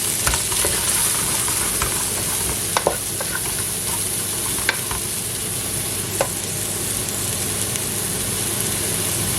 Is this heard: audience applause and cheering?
no